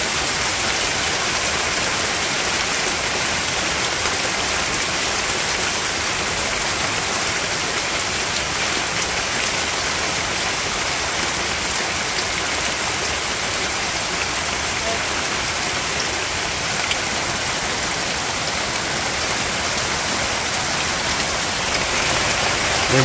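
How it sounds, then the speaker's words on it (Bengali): Steady, dense rain falling onto standing water in a village, a loud continuous patter and hiss that holds without a break throughout. "এই যে পানিতে বৃষ্টি পড়তেছে, ভালোই লাগে।"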